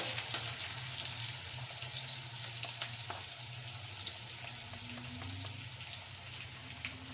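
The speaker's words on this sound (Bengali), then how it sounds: "পেঁয়াজটা নেড়ে চেড়ে লাল করে নেব" Onions frying in a pan and being stirred until browned, giving a continuous close sizzle with a low steady hum underneath and no speech.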